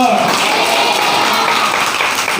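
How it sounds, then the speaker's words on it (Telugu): A church congregation claps loudly and continuously, a dense wash of applause with voices mixed in. "మరొకసారి చప్పట్లు కొడుతూ హల్లెలూయా"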